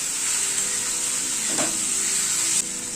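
Spice paste with melted tomatoes sizzling steadily as it is sautéed in a pan, a continuous close frying hiss with a brief stir scrape midway and no talk.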